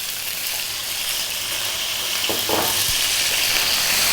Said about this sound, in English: We're going to fry these around for about 4 minutes or so.